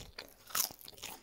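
Someone bites into crunchy, unsalted air-fried food, giving one loud, crisp crunch and then a few softer chewing crackles, close to the mic in a quiet kitchen.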